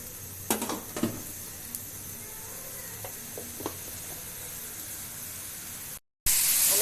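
Spices with salt sauté in a pan, giving a soft continuous hiss with a few light scraping stirs early on. A short break in the sound is followed by a sharper, brighter burst.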